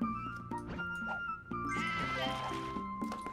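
Cartoonish sheep bleating in the puzzle video game Divide by Sheep, several wavering bleats layered over upbeat game music with plinking sound effects, all fairly loud and close.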